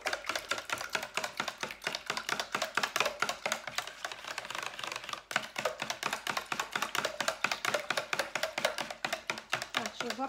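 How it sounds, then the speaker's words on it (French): Eggs are whisked with water in a bowl for lotus flower fritters: rapid, steady clicking strokes run evenly throughout at a faint level. "je mélange les œufs avec l'eau"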